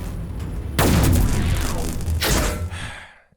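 Gunfire in Warhammer 40k Battlesector, a loud sudden burst that rings out and decays, with a second blast following shortly after before fading to silence.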